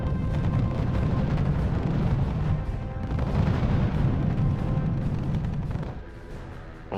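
Artillery fire in the real-time strategy game R.U.S.E., a dense, continuous rumble of booming shots and blasts that stays loud throughout before easing slightly at the end.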